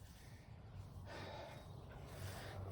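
Heavy, rhythmic panting from a man worn out after repeatedly throwing someone to the ground, with loud breaths repeating close up and no talk over them.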